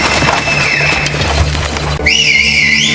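A shrill warning whistle from The Last of Us Season 2 rises and wavers, loud and close, heard alone over a steady background rumble without voices.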